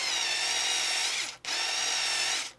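A Litheli U4 4V compact cordless drill whirs at high speed, stops briefly, then spins up again for another steady burst before winding down.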